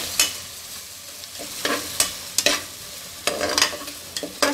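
Sliced onions with ginger garlic paste frying in oil for tomato rice, a constant sizzle with repeated loud scrapes and clatters of a spatula stirring near at hand.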